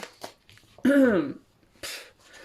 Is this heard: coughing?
yes